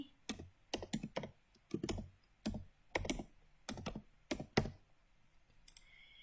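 Keys clatter on a computer keyboard in short bursts of quick taps, close and fairly quiet, with brief pauses between groups and no talking.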